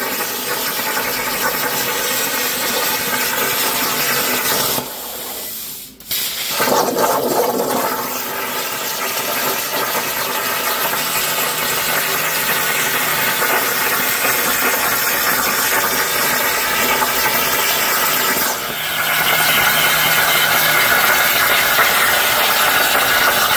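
Quarter-inch scrap steel pieces, double stacked, are cut for a homemade tractor three-point trailer hitch, making a loud continuous rushing roar that briefly drops out around five seconds and again near nineteen seconds before resuming.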